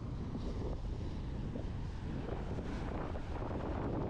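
Wind roars steadily across a microphone on an Outer Banks, North Carolina beach ahead of a storm, with rough ocean surf washing beneath it in a constant, dense rumble.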